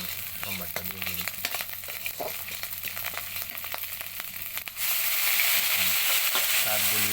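Onions fry in a pan while greens cook, a close crackling sizzle with scattered pops, then a sudden louder, continuous hiss that holds to the end; no talking.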